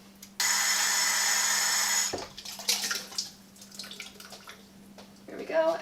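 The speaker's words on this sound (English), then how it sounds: "So next we need to add some water." Water pours steadily into a cooking pot for about two seconds while congri is being made, a loud even rush that stops abruptly, followed by quieter handling clatter.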